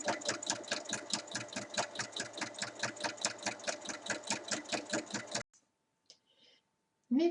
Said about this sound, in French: on va venir piquer à 1 mm tout le long pour finir d'assembler